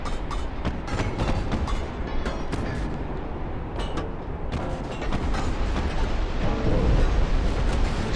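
Naval battle in Ultimate Admiral: Dreadnoughts, with torpedo hits exploding against a damaged ship's hull: a dense, continuous roar of heavy booms and rumbling detonations that swells louder toward the end, without any voices.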